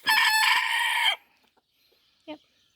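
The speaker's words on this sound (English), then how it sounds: "Chickens like snacks." A backyard chicken calls loudly and close in a long harsh crow-like squawk, followed after a pause by a single short cluck in a quiet garden.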